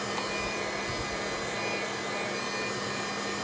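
A steady, loud blowing roar of hot air from a handheld heat gun, continuous throughout with no pauses or voices.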